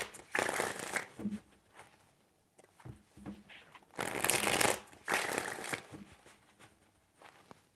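Tarot cards are riffled and shuffled in several loud, crisp bursts of papery flapping, separated by quieter handling and shorter card taps, close up with no talk.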